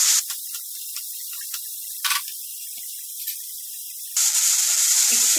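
Carrots and beans frying in a pan give a soft steady hiss with light scattered crackles, then a louder burst of sizzle near the end, close and with no talk.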